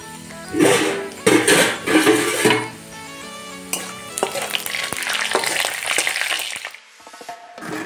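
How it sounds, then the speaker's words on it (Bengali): Whole cumin, cinnamon, cardamom and bay leaf hit hot oil in a kadai, giving bursts of sizzling crackle with metallic clinks of a spoon against the pan, settling into a steady frying hiss near the mic. "তেলটাও আমার গরম হয়ে গেছে। আর এখানে জিরে, দারচিনি, এলাচ আর তেজপাতা ফোড়নে দিয়ে দিচ্ছি।"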